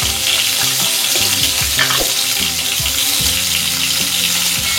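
Raw mango pieces fry with salt and turmeric in hot oil, a loud, continuous close sizzle with constant stirring and scraping in the pan.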